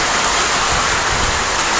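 Heavy rain falls in a loud, steady, unbroken wash of hiss and patter, close and enveloping with no pauses.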